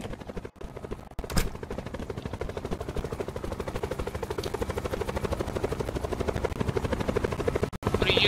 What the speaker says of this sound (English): That's like a chopper from Redwood. The military choppers.